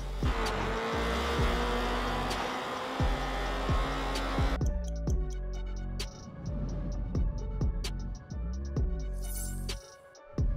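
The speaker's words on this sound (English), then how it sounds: "I forgot how loud this car was." A loud car engine in the video game Night Runners roars and revs steadily, with sharp shift-like cuts and pops along the way, close and constant throughout.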